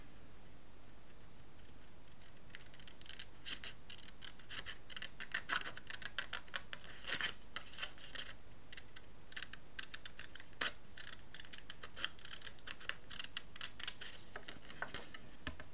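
Scissors snip through craft paper while a card for a folio album is being cut, a dense run of close, crisp cutting sounds that keeps going in quick irregular bursts, with no talking.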